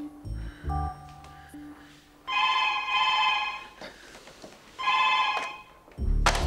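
A telephone bell rings indoors in bursts, two long rings with a pause between, mixed with brief thuds and knocks, moderately loud and without talk over the rings.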